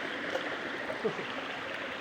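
A river flows steadily outdoors during a friends' outing, a constant broad rushing and gurgling wash of water at even loudness with no voices.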